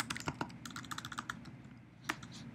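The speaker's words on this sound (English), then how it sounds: "Come on, Rob, type" Bursts of typing on a computer keyboard, irregular clusters of close, crisp key clicks with short pauses and a final isolated tap, no one speaking.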